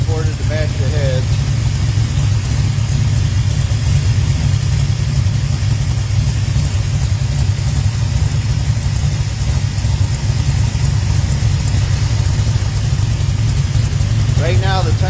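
A Pontiac 400 stroker V8 with Victor intake manifold idles loud and close with a steady, heavy low rumble, while someone talks over it.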